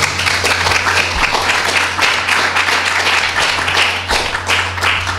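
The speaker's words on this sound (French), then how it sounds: "Pas besoin d'applaudissements" Audience applause fills a lecture hall after a talk on plant collections, a dense, steady wash of many hands clapping for several seconds over a low constant hum.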